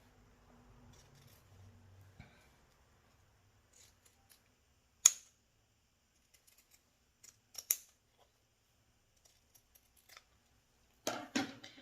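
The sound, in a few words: scissors cutting fabric around dress neckline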